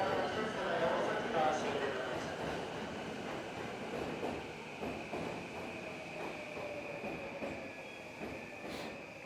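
A train rolls along with a steady rumble and rhythmic clatter of wheels, a faint high squeal running through, and muffled voices underneath.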